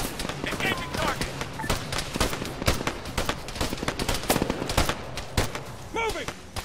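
Rapid automatic gunfire and scattered single shots from the military shooter game ArmA 3, dense and continuous bursts throughout with shouted squad commands mixed in.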